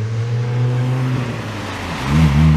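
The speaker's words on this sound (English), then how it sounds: "you and your fucking noisy friggin' Volkswagen. Buy an exhaust system." A Volkswagen car with a loud modified exhaust rumbles low and loud nearby, its deep exhaust drone rising again toward the end as it revs.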